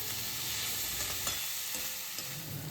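Soaked soybeans fry in spice masala in a hot pan with a continuous close sizzle, while a spoon stirs and scrapes through them in a few soft strokes.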